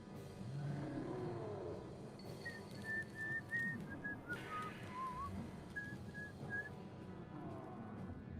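A person whistles a tune in short, clear melodic phrases, fairly quiet and slightly distant, over a low background murmur of a room.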